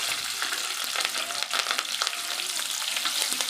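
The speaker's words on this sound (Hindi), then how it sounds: "ये लहसुन का बघार दिया है, इसमें थोड़ी सी 3 मिर्ची काटी है हरी।" Garlic and chopped green chillies sizzle in hot oil as a tempering for cluster beans, a steady close crackle with scattered sharp pops and light stirring throughout.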